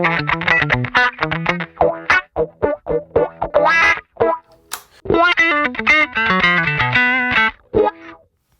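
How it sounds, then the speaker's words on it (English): Electric guitar notes pushed through a sweeping auto-wah effect from a Neural DSP Archetype: Cory Wong plugin, each note quacking and filtering up and down, played in short phrases with gaps between. "So wah pedal sounds great."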